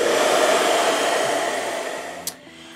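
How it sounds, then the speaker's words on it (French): A handheld hair dryer on its cool setting blows at a face with a steady, loud whoosh that eases slightly, then cuts off with a click and leaves quiet room tone. "je prends toujours le même sèche-cheveux, mais je le répète en position froid"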